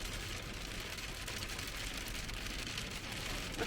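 Hail patters densely and steadily on a car windscreen, a continuous close hiss of impacts with a low engine idle underneath.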